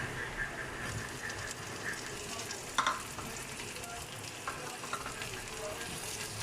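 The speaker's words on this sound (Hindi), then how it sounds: "अब इसमें हम अपने टमाटर ऐड कर देते हैं।" Tomatoes hit lightly browned onions frying for Karachi Memon-style biryani, giving a steady close sizzle with one brief clatter of stirring partway through.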